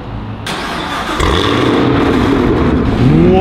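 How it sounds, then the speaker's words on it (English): A car's engine cranks and catches on remote start, then settles into a loud, steady idle close by. "I have a remote start."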